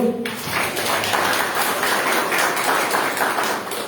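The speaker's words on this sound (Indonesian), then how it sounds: "Tepuk tangan Bapak Ibu." An audience of villagers claps at a village head election campaign rally in Bantar, Jatilawang, a steady, dense round of applause that starts after a brief voice and carries on throughout.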